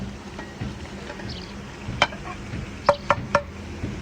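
Spices with green chilies frying in a pan for rajma pulao, a low steady sizzle with a handful of sharp spoon clinks against the pan near the end; no voices.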